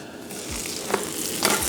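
Onions and a Seattle-style hot dog bun sizzle steadily in margarine on a hot griddle just after a flip, with a soft continuous crackle and a couple of brief scraping stirs.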